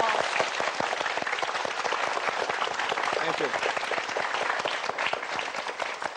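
Audience applause fills the hall for a motivational speaker at a live talk in Vietnam, a dense, steady clapping that runs throughout, with a brief spoken thanks over it.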